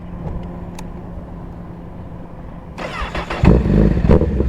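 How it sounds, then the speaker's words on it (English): A motorcycle is switched on and started in a parking lot: quiet ticking at first, then a sudden starter whir and the engine catching into a loud, rough idle close by. "Turn the bike on."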